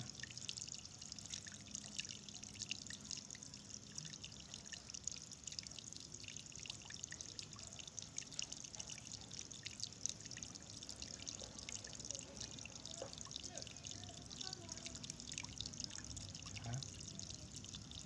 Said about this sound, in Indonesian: setelah diikat kita siram kembali dengan air agar kainnya juga ikut basah